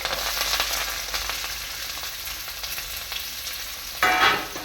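Ginger, green chili, curry leaves and onion fry in oil for a soybean and white chickpea curry, a steady close sizzle with light stirring and a brief louder crackle near the end.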